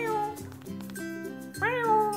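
A cat named in a daily vlog meows in a long, drawn-out series of tonal, wavering cries, close and loud, with the pitch rising sharply toward the end.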